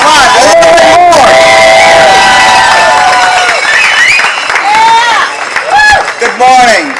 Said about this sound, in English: I need some claps.